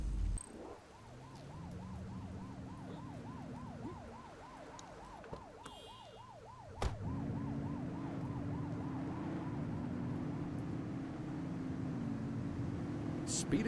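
A police car siren in the video game The Precinct, set in a 1983 crime city, wails in rapid repeating cycles over an engine drone, with a loud thump partway through and the siren continuing.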